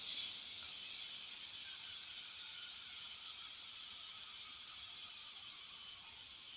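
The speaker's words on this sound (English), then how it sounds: "I'm letting the steam off of this thing so I don't have to stand here and wait for it to drop on its own" Steam hissing from a pressure cooker on quick release, a steady, fairly faint continuous hiss with no break and no talking.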